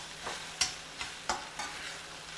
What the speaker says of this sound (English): Just 1 or 2 minutes you stir fry it